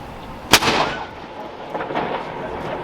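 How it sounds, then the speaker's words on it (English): A single cannon shot fired at Edinburgh Castle, one sharp loud boom followed by a brief rumbling echo and crowd murmur in the open outdoor grounds. "And I was expecting more cannons. This was just one cannon."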